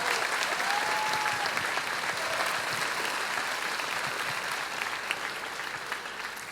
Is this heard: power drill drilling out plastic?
no